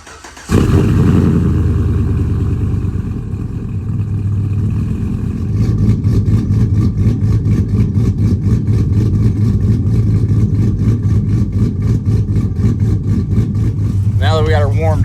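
A Chevrolet Silverado pickup with a 5.3 V8 cranks, fires and settles into a loud, steady idle while warming up, heard up close and without speech.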